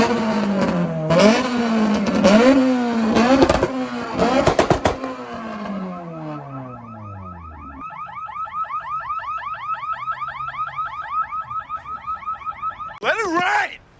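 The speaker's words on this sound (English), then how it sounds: "rev this shit, Kev" A car engine fitted with a basketball hoop exhaust revs in sharp, loud bursts, then gives way to a warbling, siren-like pulsing tone and ends with one more quick rev.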